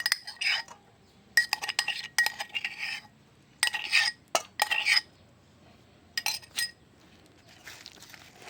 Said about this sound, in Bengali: চিংড়ি মাছগুলো এবার এই পটলের যে পুরটা দেবো এটার সঙ্গে মিশিয়ে নেব।